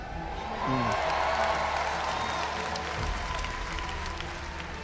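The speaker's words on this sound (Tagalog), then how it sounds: "Mas malakas din ang palakpak" Audience in a church breaks into applause, a broad wash of clapping that swells after a second and holds steady, moderately loud with some cheering mixed in.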